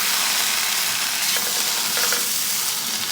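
Egg and toast fry in a pan with a bright, hissing sizzle that stays loud and continuous, while a few soft scrapes of a utensil break through near the middle.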